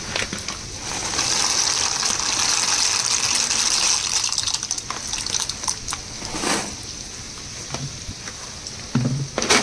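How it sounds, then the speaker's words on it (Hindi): Pasta goes into a pot of boiling water, with a loud rushing, bubbling wash that fades into quieter simmering and a few light clatters near the end. "पानी अच्छे से गर्म हो गया, मतलब बॉईल हो गया। अब इसमें डाल रही हूँ पास्ता।"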